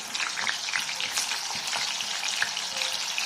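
Soya chunks and paneer frying in four to five spoons of oil in a pan on medium heat, a dense continuous crackling sizzle, close and fairly loud with no voices.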